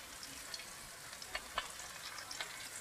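Squash and onions fry in a pan with a steady, soft sizzle and a few brief pops and crackles. No one speaks.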